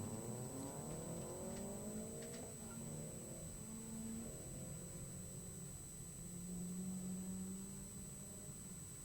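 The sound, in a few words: 2006 Mazda RX-8 driving an autocross course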